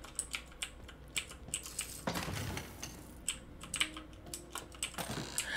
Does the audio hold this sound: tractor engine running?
no